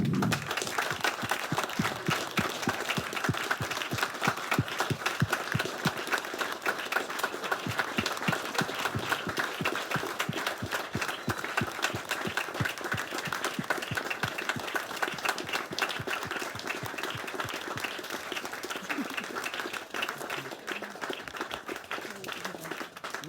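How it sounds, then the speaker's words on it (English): A large audience at a horse racing breeders' awards evening claps for an honoree in steady, sustained applause that stays dense and even throughout. "Will you give a very upstanding, huge round of applause to Simon Sweeting?"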